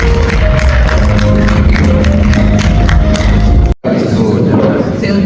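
Audience in a hall applauds to welcome the first speaker at a talk, a loud, dense stretch of clapping with thumps, briefly cut by a dropout before resuming.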